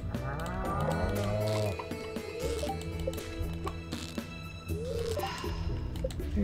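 Cow in the farming video game Stardew Valley lets out a drawn-out moo alongside squishy, dripping milking sounds, over cheerful game music with no talk.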